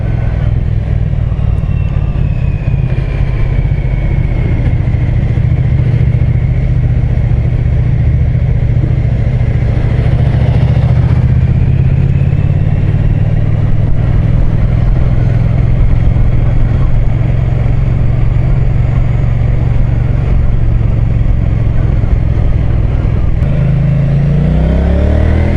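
A Triumph Street Cup motorcycle engine pulls hard on a test ride, a loud, continuous roar that holds steady, then rises in pitch near the end as it revs up.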